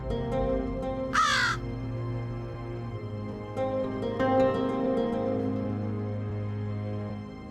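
Crows cawing inside a royal court in a Tamil period drama, one loud harsh caw standing out early, followed by fainter scattered calls over a steady low background hum.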